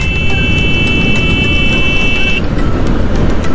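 Loud, sustained car horn blaring in busy road traffic, heard up close from a motorcycle, a steady tone lasting over two seconds before it cuts off, over constant engine and road rumble.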